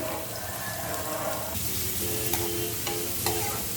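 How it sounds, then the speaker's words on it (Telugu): Two medium chopped onions go into a pan of already fried cumin and crackle in a steady, moderate sizzle while being stirred, with small clinks over the frying. "జీలకర్ర వేగిపోయింది కదా, ఆనియన్స్ వేసేస్తున్నాను."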